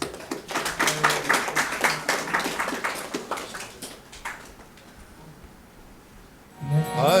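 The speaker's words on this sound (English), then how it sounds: "please round of applause for Sushma" A small audience of students claps for prize winners at a lecture, a brisk round of hand claps that fades out after about four seconds, leaving quiet.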